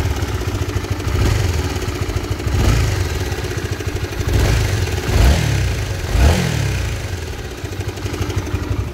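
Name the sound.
Honda CB150R motorcycle engine knocking from worn cam chain tensioner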